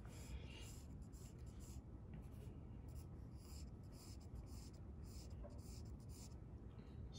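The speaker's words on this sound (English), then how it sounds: "I also want to draw a line that kind of connects that eye socket to the other side" Pencil scratching steady lines across paper while sketching a still-life skull, a continuous soft rubbing texture that stays close and even throughout with no pauses.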